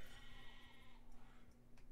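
Sheep bleating from a sheep hut in the Overdungeon video game, a short bleat sounding over a steady low game hum.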